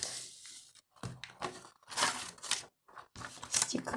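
Crinkly paper rustling and tearing in several bursts with short pauses, close by, as a packet is pulled open.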